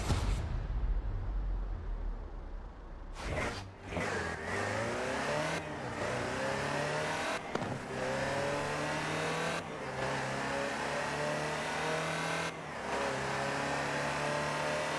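A Land Rover Series III utility truck engine driving in a racing game, a steady mid-pitched drone revving up through several gear changes with brief dips between shifts, loud and close throughout.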